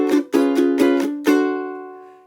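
Ukulele strummed in a quick down-up song intro: five crisp strums, bright and close, with the last chord ringing out and fading, no voices.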